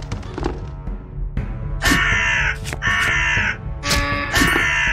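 Crows caw loudly in the video game UnEpic, a run of four harsh caws in steady succession over a low game background with faint thuds.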